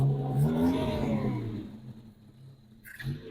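A Buick Opel engine revs up loudly and close, its rising and falling tone fading after the first half, with a brief second burst near the end.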